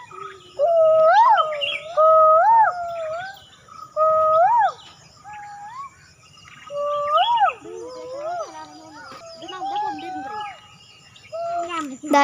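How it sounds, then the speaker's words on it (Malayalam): An Asian koel calls repeatedly from the valley below Anangan hill, clear rising two-part whistles in spaced bursts, fairly close, over a quiet rural background. "കുയില് തিരിച്ച് എന്താ കൂവുണ്ടോ നമുക്കൊന്ന് നോക്കാം"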